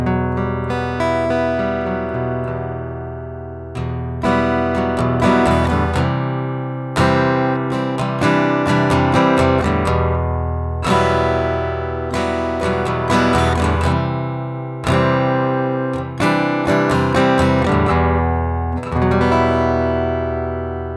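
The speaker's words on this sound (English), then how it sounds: "piezo pickup into an electroacoustic guitar is going to sound like this" Electroacoustic guitar heard through a piezo pickup, strummed chords in a steady rhythmic pattern, bright and somewhat brittle, played continuously and up close without any voices.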